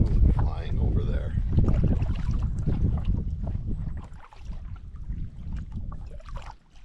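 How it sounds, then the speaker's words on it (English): Wind gusting across a lake, heard as broad rushing buffeting against the microphone, with sounds of water and a paddling boat, loud at first and easing later, while someone talks. "But sure enough, once I got back out here, the wind kicked up."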